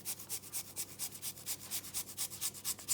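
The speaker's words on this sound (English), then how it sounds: "I'm gonna grate the fresh clove of garlic" Fresh garlic clove rubbed across a grater into softened butter, a soft rhythmic scratching of about a dozen quick strokes, close but quiet, with no voices.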